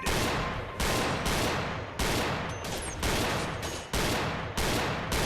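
Gunfire in the Gun Club VR video game comes as a rapid series of loud, close shots, about eight blasts in quick succession with short gaps between them.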